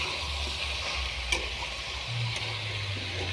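Soybean chunks, kohlrabi and potato cook down with a spice paste in a pan, making a quiet, even sizzle over a low background hum.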